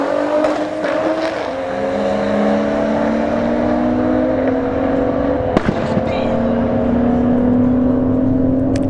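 An Audi and an A90 Supra drag racing at a street-heat event at a motorsports park, engines roaring and rising in pitch as they accelerate, with a sharp pop partway through.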